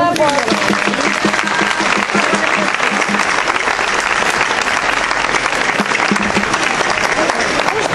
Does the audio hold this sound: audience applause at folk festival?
yes